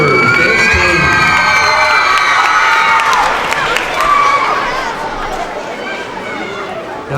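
An elementary school audience at an award ceremony cheers loudly, with children shouting and crowd chatter that slowly fades. A voice talks over the noise.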